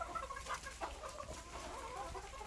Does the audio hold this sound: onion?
no